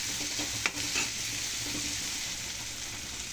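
Brinjal curry ingredients fry in hot oil with a steady sizzling hiss, broken by a few soft scrapes and clinks of a spoon stirring the pan, close by and with no talk.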